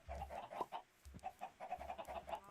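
Minecraft chickens cluck repeatedly at a chicken farm, a rapid run of short, quiet clucks in an otherwise calm game scene.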